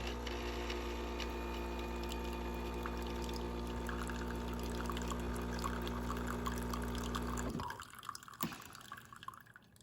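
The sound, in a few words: fancy home coffee machine pouring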